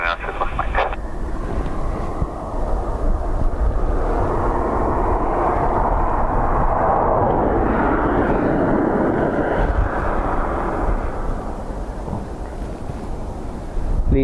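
Airliner landing at Dublin Airport on runway 28 left on a windy day, a loud, sustained roar of jet engine noise mixed with heavy wind buffeting on the microphone, with a radio voice briefly heard at the start.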